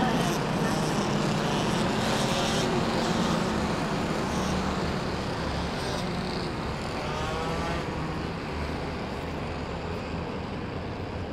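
FS-125 racing karts at the All-Japan Kart Championship head into the final corner, a dense, continuous engine drone and roadway roar that holds steady throughout, with a commentator talking over it.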